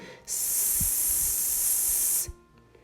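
A voice imitating a hissing "s" sound, one sustained, even, close hiss lasting about two seconds before stopping abruptly.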